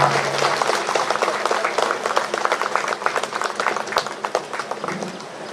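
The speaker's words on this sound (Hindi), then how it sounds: "Everyone give a big hand." Festival crowd at a main-event stage breaks into dense, sustained applause, many hands clapping fast and close, with faint voices in the mix and the clapping thinning slightly toward the end.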